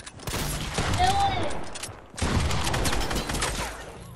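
Fortnite gameplay delivers a dense fusillade of gunfire in two bursts with a brief pause between them, loud and close, while a player talks excitedly over the shots.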